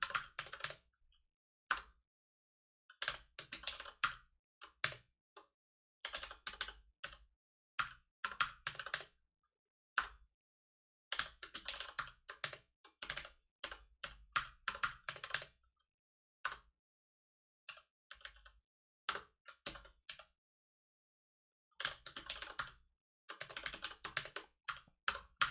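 Someone types code on a computer keyboard in quick bursts of clicky keystrokes with short pauses between runs, close to the microphone and fairly quiet overall.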